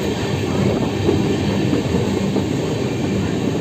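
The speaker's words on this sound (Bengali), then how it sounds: "ট্রেন কিন্তু এখনও কারেক্ট টাইমে ঢুকছে।" A train running into a station produces a dense, steady rumble of wheels on rails with faint squealing and clacking throughout, loud and continuous with no voices.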